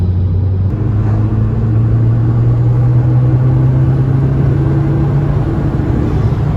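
Volkswagen Golf 6 GTI with light tuning and a new engine, idling with a steady deep rumble and a slowly rising hum, loud and close throughout with no talk.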